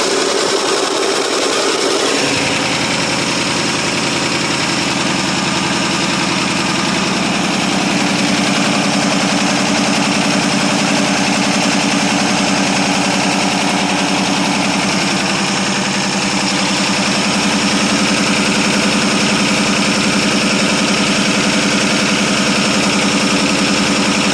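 A 1947 Ford Super Deluxe Flathead V8 engine, unstarted for two years, cold starts after a brief moment and settles into a loud, steady idle that rumbles on without a break.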